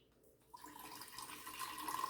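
Filtered or distilled water poured by hand over homemade butter to rinse it, a steady close trickle that starts after a brief pause and keeps running to the end.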